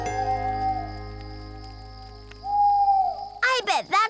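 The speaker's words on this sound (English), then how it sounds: "I bet that's Mr. Blue Jay's friend, Mrs. Owl" A cartoon owl gives a sustained hoot over a soft held musical tone, followed by a louder run of wavering hoots at the close.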